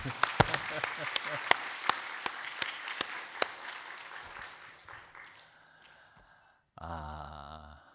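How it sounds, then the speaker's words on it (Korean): A church revival congregation claps in a brief burst of sharp, spaced hand claps that fades out, followed by a quieter stretch and then a voice speaking. "박수 한번 할까요? 박수 한번."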